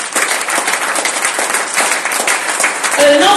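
A church congregation at a Sunday service applauds steadily and loudly in a dense, sustained wash of clapping, with a brief tonal voice or instrument note rising near the end.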